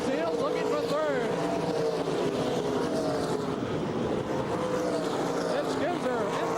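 Sprint cars of the 1983 World of Outlaws roar around the Oklahoma City dirt track in a steady, loud engine drone with pitch sweeping as cars pass.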